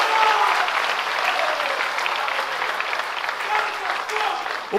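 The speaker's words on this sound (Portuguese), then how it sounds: "Pode aplaudir, ele merece nossos aplausos." A church congregation applauds steadily throughout, dense broadband clapping at a constant level with faint background voices mixed in.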